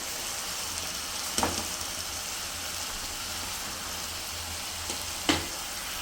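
Tomatoes and onions frying in a pan for tomato and egg curry, a steady close sizzle with a couple of brief stirring clatters.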